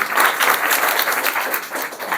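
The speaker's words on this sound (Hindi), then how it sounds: "तो अंजलि के लिए जोरदार ताली स्वागत कीजिएगा जी" Classroom applause welcoming a student, a brisk, loud burst of many hands clapping together that holds steady for about two seconds without voices.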